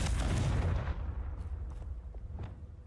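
A Confringo fire spell cast in Hogwarts Legacy bursts with a heavy, booming blast that decays over about a second, followed by softer crackling pops and scattered impacts at moderate volume.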